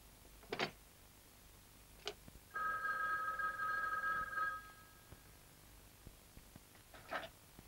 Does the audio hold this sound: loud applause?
no